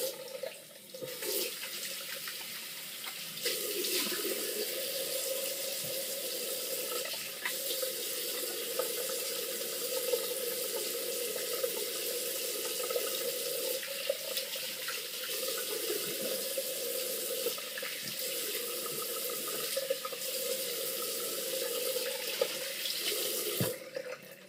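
Steady running tap water splashes over a Konosuke 300mm gyuto in shirogami 2 steel during a quick rinse. The flow is continuous and unbroken for the whole stretch, close and even, with no talking.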